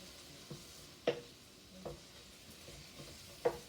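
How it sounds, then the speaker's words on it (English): Onions fry quietly in a pan with a soft, faint sizzle, broken by several short scraping stirs at irregular intervals. "I'm gonna cook the onions just a tiny bit"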